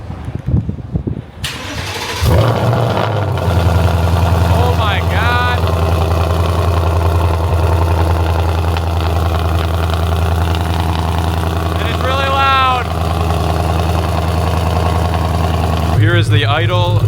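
A 2024 Ford Mustang GT with a full aftermarket exhaust starts up loudly, then settles into a deep, steady, rumbling idle close by, with a voice speaking briefly over it.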